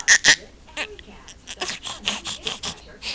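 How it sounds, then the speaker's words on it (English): A sleeping baby hiccups in short, sharp bursts close to the microphone, two quick ones first and then more spaced out, while an adult talks softly nearby. "Look at the hiccups."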